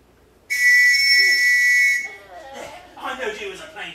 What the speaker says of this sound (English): That ain't a police whistle, that's a sporting whistle.